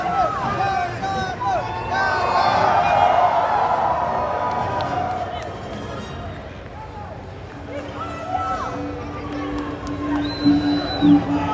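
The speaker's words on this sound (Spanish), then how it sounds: "Fuerte el aplauso, Giancarlo Esposito." A convention audience at Comic Con Panamá 2023 cheers and applauds for Giancarlo Esposito, a sustained crowd roar with clapping and babble that swells early, eases off, then lifts again near the end.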